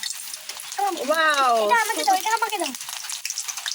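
Hot oil sizzles in a wok as a steady hiss, while someone speaks over it throughout.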